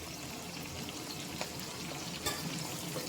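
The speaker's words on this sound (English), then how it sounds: "I'm going to add my saltfish" Bite-sized deboned saltfish goes into a pot of Jamaican run down, with a soft, steady sizzle and bubbling and faint splashes and stirring throughout.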